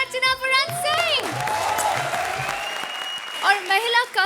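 Studio audience applause on the Hindi TV comedy show Comedy Circus, a dense burst of clapping that swells in the middle, with a voice speaking over it at the start and end.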